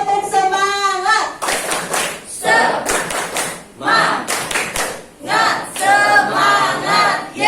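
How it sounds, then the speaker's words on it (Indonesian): A classroom of students performs a rhythmic clapping chant, with sharp group claps in patterned bursts mixed with shouted, sung voices, loud and close, alternating between clap runs and chanted words. "Oke, semuanya tepuk semangat."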